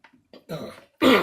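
A short, harsh cough from a person with asthma bursts after a few faint throat noises, close to the mic, with no other sound around it.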